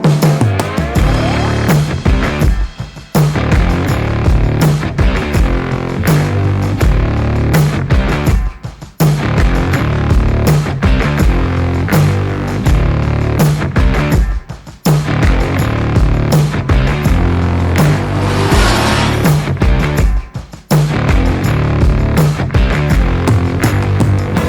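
An Aprilia RS660 with its 660cc forward-facing parallel twin rides on the road, a loud, steady engine drone that dips briefly several times, like gear changes, before pulling hard again.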